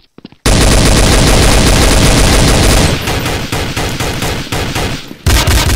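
Sustained automatic gunfire in Counter-Strike: Source, a loud, close, unbroken rattle that starts abruptly, runs nearly three seconds, then breaks into choppier bursts before a final loud burst, with no talking.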